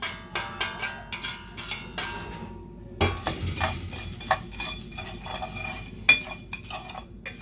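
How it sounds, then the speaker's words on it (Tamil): Ingredients are dry-roasted in a hot pan for a kadai paneer masala, with irregular spoon clinks and scraping knocks against the metal, close and fairly quiet, with no talk. "இப்போ இதை சட்டி சூடாயிட்டு இவ்வளோத்தையும் நான் போட்டு வறுக்க போகிறேன்"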